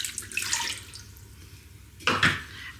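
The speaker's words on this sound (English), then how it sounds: "pour in your liquid," A cup of liquid is poured into the base of an air fryer for a gammon steam roast, a brief splashing pour then a second louder gush near the end.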